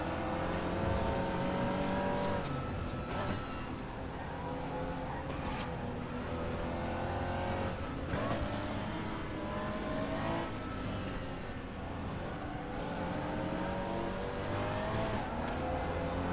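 Porsche Cayman race car in the RaceRoom racing game circuit at Bilster Berg, its engine droning loudly and continuously with rising and falling revs through gear changes, other cars audible around it, no talking.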